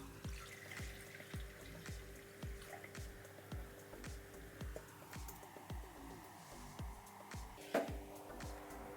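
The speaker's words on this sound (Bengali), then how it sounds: "কড়াইটা গরম হয়ে গেছে, আমি দিয়ে দেবো একটু জল।" Water is poured into a hot kadai while cooking an egg curry, giving a steady splashing, running-water wash with a rapid series of small ticks and clicks at moderate loudness and no talk.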